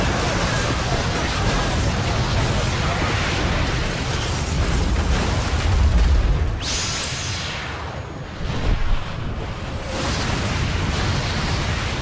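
A massive divine-light explosion from the summoned Alexander in Final Fantasy Type-0 striking a border fortress, a loud sustained rumbling roar of broadband noise that swells and surges, with no voices.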